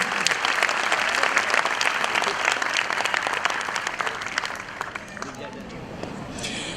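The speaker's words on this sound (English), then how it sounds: "deserves a big round of claps, please" Audience applause at a children's annual day stage show, dense steady clapping that fills the room for several seconds before thinning out, with crowd murmur mixed in.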